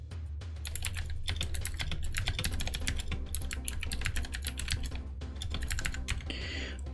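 Fast, continuous clacking of a computer keyboard as a prompt is typed, close and steady with dense overlapping keystrokes.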